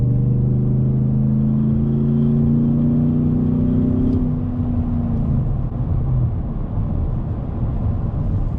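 A car cruising at about 70 km/h while coasting down a hill, a steady engine and road drone with a falling tonal whine, heard from inside the cabin with no talking.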